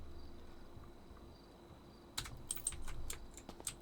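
A command is typed on a computer keyboard, a quick run of faint clicking keystrokes that starts after two seconds of quiet room hum.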